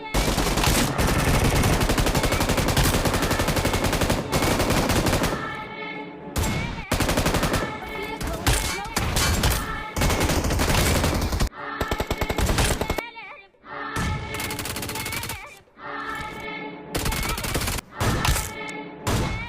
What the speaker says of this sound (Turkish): Son kişiyi de vuracağım şimdi.